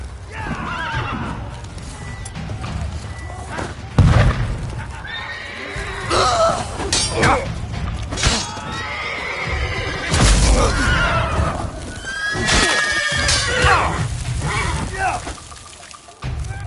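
Horses whinnying and neighing with clip-clopping hooves in The Witcher 3: Wild Hunt, Blood and Wine, loud and close, repeated calls over hoofbeats, with shouting voices mixed in.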